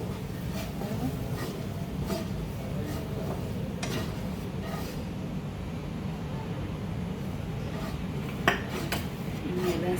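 A utensil scrapes and clinks against a pan while flour roasts in melted butter for a vegetable lasagna, with steady low cooking noise and occasional sharper metallic taps.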